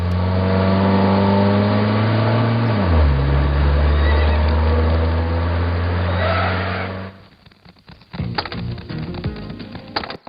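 Horses in a dramatic action film scene: a loud, drawn-out whinny-like call that drops in pitch and lasts several seconds, then gives way to scattered clattering noises.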